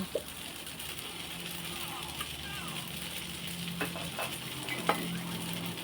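Shrimp fried rice with oyster sauce stir-fried in a pan gives a steady, soft sizzle with occasional scraping clicks of the utensil, while a voice talks lightly in the background.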